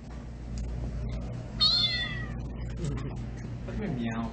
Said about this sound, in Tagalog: Ba't may meow?